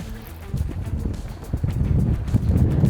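Wind gusts steadily outdoors on a fishing trip, a low rumbling buffet that swells and builds toward the end, with occasional knocks.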